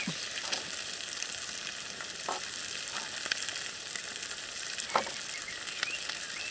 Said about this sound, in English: They're going to go in with our oil to fry a little bit.